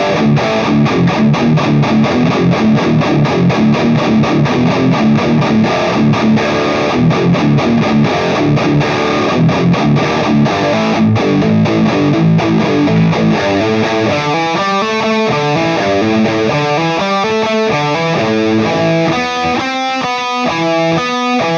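An electric guitar played through only distortion and effects pedals, dialed for a moderate-gain tone, chugs dense, loud chords and then shifts to choppy, rhythmic picked notes, with no voice present.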